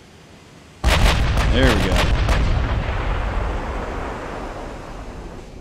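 Warship guns in Ultimate Admiral: Dreadnoughts fire in a sudden loud salvo of booming blasts, followed by a long rumbling roar that slowly fades. A brief spoken remark sits under the noise.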